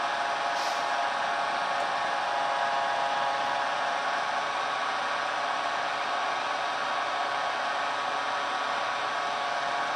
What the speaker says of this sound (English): I got myself a heat gun that has multiple settings